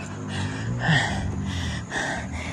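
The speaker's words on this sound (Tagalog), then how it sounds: "Hinihingal ako pagkakyat. Medyo matarik din." Heavy, rhythmic panting from a person out of breath after climbing a steep path, several loud breaths repeating close to the microphone with no talking.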